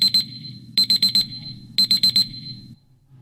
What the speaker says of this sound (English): Damn, timer went off.